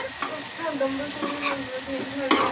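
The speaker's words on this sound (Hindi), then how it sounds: "अब इसमें भिंडी मिक्स कर दें।" Okra being stirred and fried in a pan, with a steady sizzle broken by scraping stir strokes and a sharper clatter near the end. No one speaks.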